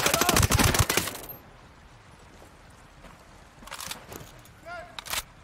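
A rapid burst of automatic gunfire in a video game opens loud, then fades into quieter ambience with a few scattered shots and clanks later on.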